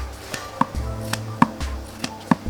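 Old cloth cut with scissors for a pillow, several crisp snipping cuts at an even pace, close and fairly quiet, with soft handling noise between them.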